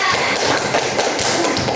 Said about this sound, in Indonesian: Tepuk tangan dulu untuk Berlian.